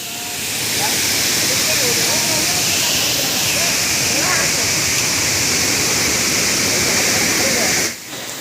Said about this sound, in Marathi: तुम्ही पाहू शकता किती उंच धबधबा आहे